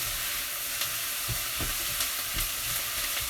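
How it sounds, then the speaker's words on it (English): Onions sizzling in a pan for a sausage and fennel pasta sauce, a steady frying hiss with a spoon scraping and stirring through them in soft irregular knocks, close and fairly quiet. "so just stirring those onions"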